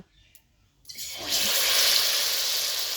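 Battered raw potato and flour snack dropped into hot oil, a brief quiet pause then a loud, steady sizzling hiss that rises and holds close up.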